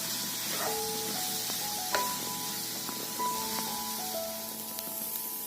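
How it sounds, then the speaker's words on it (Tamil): Grated coconut roasting in a pan for crab gravy, a soft steady sizzle with occasional stirring scrapes, close and moderately quiet. "இப்போ எடுத்து வச்சிருக்க 1 கப் தேங்காவையும் சேர்க்கிறேன். சேர்த்து நல்லா வறுத்து எடுத்துக்கலாம் தேங்காவை."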